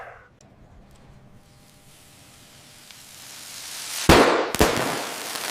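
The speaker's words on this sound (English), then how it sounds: "You did take the fireworks away from that pyro patient, right?" Fireworks in the video game Idiot Triage hiss and build as a fuse burns, then burst in two sharp, loud cracks close together, followed by a fizzing crackle.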